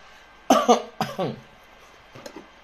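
Two harsh coughs close together near the start, followed by a fainter, shorter cough after a pause.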